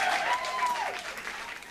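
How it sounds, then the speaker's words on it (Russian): Light, scattered applause from a small audience during a livestream of Russian songs, a soft steady patter of clapping lasting under two seconds with a faint whistle-like tone gliding through it. "я слышу немножечко аплодисментов"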